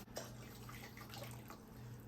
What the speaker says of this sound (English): I'm gonna dump out the hot water from the thermos.